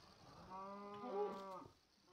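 A cow in the game Minecraft lets out a single drawn-out low moo lasting about a second, faint and alone.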